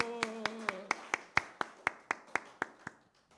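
A church congregation at a Wednesday worship service claps in unison, about a dozen sharp, evenly spaced claps that slow slightly and fade toward the end, following a brief sung or spoken tone.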